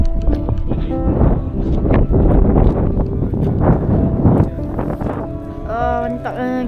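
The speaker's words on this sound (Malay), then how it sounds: "Oh, berangin dah, sejuk." Wind gusting by the sea near a harbour with small boats, a steady broadband rush close to the microphone running under people talking throughout.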